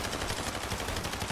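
Rapid automatic gunfire in a battle royale shooter game, a dense run of evenly spaced shots close and loud throughout, with no talking.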